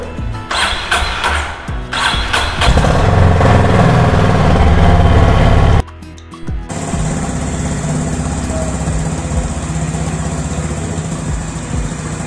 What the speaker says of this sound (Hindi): इस बाइक का साउंड मैं आप लोगों को चेक कराता हूँ